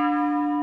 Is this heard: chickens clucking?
no